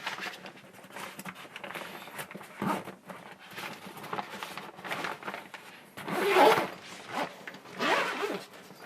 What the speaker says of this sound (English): So I'm going to go ahead and zip this thing up.